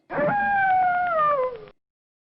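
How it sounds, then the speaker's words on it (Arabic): A wolf howls once, a long, loud, sustained tone held for about one and a half seconds, with a slight wavering and a gentle downward slide at the end before it stops cleanly. "ذئب"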